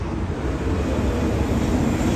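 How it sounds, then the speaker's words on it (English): Loud trucks pass on a nearby road, producing a heavy, continuous low engine rumble that stays steady and close throughout. "We have really loud truckers going here."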